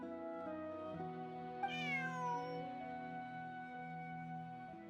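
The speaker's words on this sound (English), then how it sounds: "Bonnie is Pierre's cat" A cat meows in the video game Genshin Impact, one drawn-out plaintive meow rising then falling, heard alone over a steady sustained musical background at low volume.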